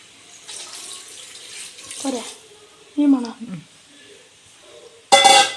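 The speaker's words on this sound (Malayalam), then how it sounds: "ചിക്കൻ ഇനി കുറച്ച് വെള്ളം ഒഴിക്കുക." Water pours into a pan of chicken in short splashy bursts, one loud final gush, with a voice talking softly in between.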